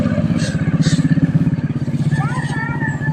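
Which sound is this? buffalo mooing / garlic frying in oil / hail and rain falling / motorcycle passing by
motorcycle passing by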